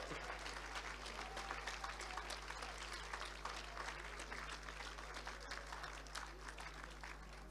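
An audience at the Spirit of Manchester Awards 2019 claps steadily for several seconds, a dense, even patter of applause with no voices standing out.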